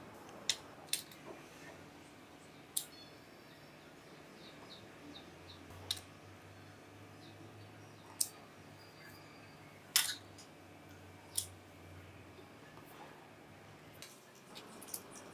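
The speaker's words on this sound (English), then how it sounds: "Next we need to cut the cracked ends. to make a square." A knife cuts through rolled shankarpali dough, a sweet snack dough rolled fairly thick, making sparse, quiet, sharp clicks and taps on the board over a faint low hum, with no talking.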